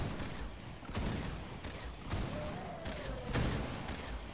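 The Dragon's Claw gun fires in Fortnite Save the World: about five loud, evenly spaced booming shots over dense background game noise, close and forceful.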